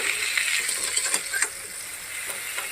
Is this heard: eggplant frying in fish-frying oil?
yes